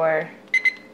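A kitchen timer being set for cheesemaking gives two quick, bright electronic beeps just after a voice fades out.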